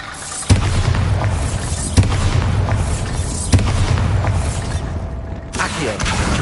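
Bombarda blasts in Hogwarts Legacy hit as a series of sharp, loud explosions at roughly one-and-a-half-second intervals. Each impact has a rumbling tail, and a brief quiet gap comes before the last boom.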